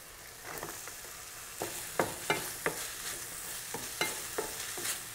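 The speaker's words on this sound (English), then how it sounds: "let's stir fry some veg" Vegetables stir-fry in a hot pan with a constant low sizzle, broken by a series of sharp, rhythmic spatula scrapes and taps close to the pan.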